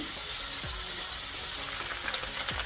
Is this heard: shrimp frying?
yes